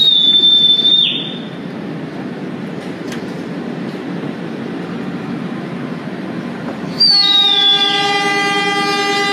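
An Indonesian Banyubiru economy train at Telawa station sounds its horn in a loud, sustained blast, then rumbles quietly for several seconds before a second long, piercing horn blast with rich overtones.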